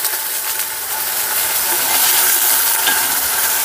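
Water spattering and hissing in a hot pan while kavathu (tuber) is roasted, a dense, loud continuous crackle and sizzle close up with faint popping bursts.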